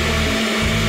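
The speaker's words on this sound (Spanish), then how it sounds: "Tenemos el agua y esto lo ponemos en la licuadora." A kitchen blender whirs loudly and steadily while blending water and sugar, its motor droning close up with a brief dip in the low hum.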